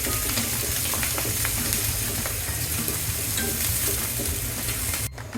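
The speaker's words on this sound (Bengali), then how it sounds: "একটু নেড়ে নিব।" Onion, sliced green chili and salt frying with spices in a pan for a Bengali katla fish curry with bori, a steady loud sizzle with scraping stirring strokes throughout.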